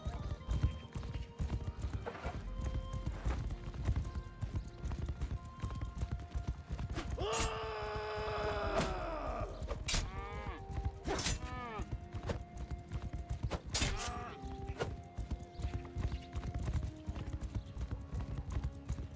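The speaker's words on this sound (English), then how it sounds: "Oh, it's all the cows running around." Cattle moving about on a farm, a steady stream of thudding, clattering hooves with animal calls rising above it midway, loud and close throughout.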